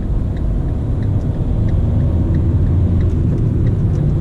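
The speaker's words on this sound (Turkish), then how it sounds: "Bu yol full trafik" Steady low engine rumble of a Fiat Linea moving through heavy street traffic during a curfew, a continuous close drone with faint higher ticks and no voices.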